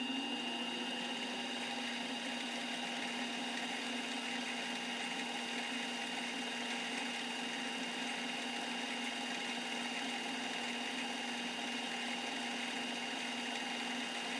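CNC lathe spindle turning steadily at 500 RPM during a threading job, a continuous mid-pitched machine hum with a constant whine, unchanging and alone.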